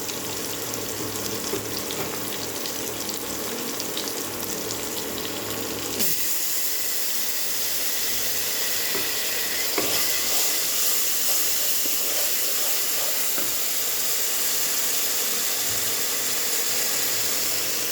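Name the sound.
ginger garlic paste sizzling in a cooking pan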